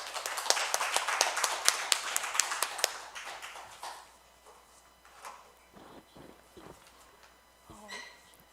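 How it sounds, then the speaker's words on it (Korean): A church congregation claps to welcome a pastor to the pulpit at a Korean worship service, with dense clapping for about three seconds that thins into scattered claps and soft footsteps. "목사님 나오실 때 박수로 환영해 주시기 바랍니다"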